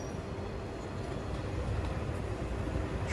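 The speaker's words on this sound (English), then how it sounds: "Train coming in now." A Eurostar-era passenger train pulling into a station in Lille, France, a steady low rumble of wheels and rail noise holding loud and continuous throughout, with no voices.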